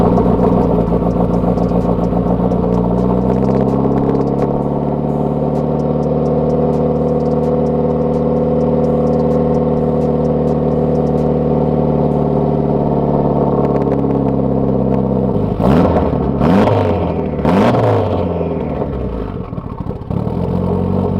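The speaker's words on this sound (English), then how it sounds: "Let's go ahead and fire up the car and let me show you guys how bad it smokes on startup." Mitsubishi Evo 8 engine with a bad oil-burning smoke problem idling steadily and loudly up close, then revved in several sharp bursts near the end.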